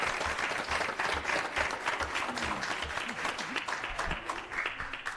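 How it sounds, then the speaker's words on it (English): An audience claps for a group of children at a city parks and recreation commission meeting, a steady, dense round of applause from a crowd filling the room, with a few faint voices underneath. "Let's give these kids a round of applause."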